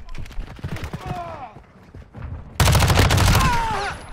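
Rapid bursts of MP5 submachine gun fire in Call of Duty: Modern Warfare II, an early rattle followed by a loud sustained burst near the end, with a voice talking over the first part.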